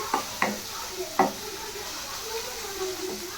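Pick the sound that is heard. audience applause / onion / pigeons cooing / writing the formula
onion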